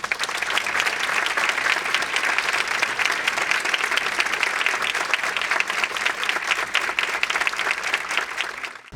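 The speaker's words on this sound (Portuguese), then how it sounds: "Peço uma nova salva de palmas" A large audience gives a sustained round of applause, dense clapping at an even level throughout, with a faint murmur of the crowd beneath and no clear speech.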